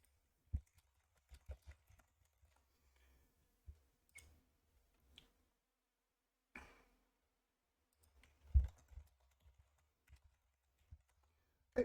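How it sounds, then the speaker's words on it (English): Typing on a computer keyboard during an online card game: sparse, quiet clicks and short bursts of keystrokes with pauses between, close by in a quiet room. "Don't want to keep everyone waiting while I'm just typing to this person."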